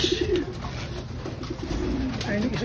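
Pigeons coo in low, soft rolling calls, a few repeated phrases close by amid background noise.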